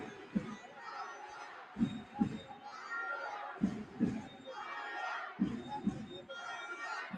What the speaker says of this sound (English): The crowd getting behind Albacete.